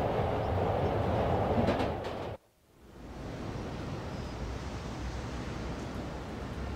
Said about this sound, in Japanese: 電車乗ってんの。